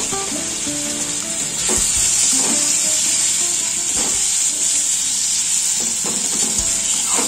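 Spice paste frying in a pan for a fish curry after chopped tomato goes in, a continuous loud sizzle with several short stirring scrapes at irregular intervals.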